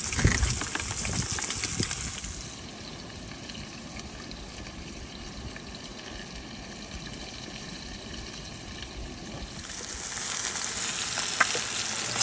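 Food frying on a small stove inside a campervan, a loud hissing sizzle that drops to a softer, steady bubbling fry for several seconds, then rises loud again near the end.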